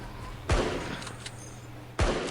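Two sharp, loud gunshots from the LifeAfter video game, spaced about a second and a half apart, each with a short booming decay over a quiet background.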